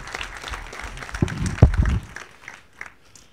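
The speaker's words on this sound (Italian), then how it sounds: "Beh, scusate, Nanio Entri non gli facciamo l'applauso." Audience applause at a 2023 Odoo Days Italy conference talk, a short scattered burst of clapping that swells briefly in the middle and then fades out quickly, with no talking over it.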